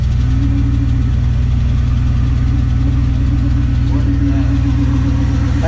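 A 1977 Dodge Power Wagon W150 pickup, parked for twenty years, idles steadily with a deep, continuous low engine rumble and a faint knocking texture, close and loud throughout with no pause.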